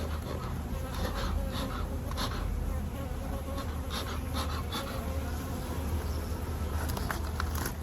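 Honeybees from a defensive hive buzz loudly and continuously around an open hive during an inspection, a close, dense swarm drone with no talking.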